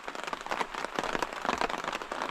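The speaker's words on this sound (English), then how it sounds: "Got a lovely little drizzle of rain." Light rain pattering steadily, a soft dense crackle of scattered drops with no voices, fairly quiet and close.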